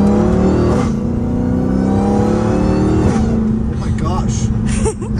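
Dodge Challenger Hellcat Redeye with a new cold air intake accelerating hard in third gear at night, a loud sustained engine roar with a whining tone climbing through the pull, a voice briefly heard over it.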